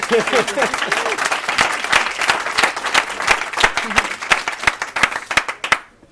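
Steady applause from a small crowd, clapping continuing throughout before stopping abruptly at the end, with a few voices briefly audible early on.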